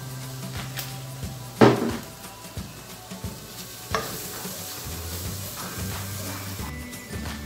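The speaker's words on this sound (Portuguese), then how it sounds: "Refogar. Colocar mais um pouquinho de azeite." Sautéing in olive oil in a pan for a tuna pasta dish, a steady soft sizzle under stirring, with a few sharp utensil knocks and clatters, one loud clank near the start.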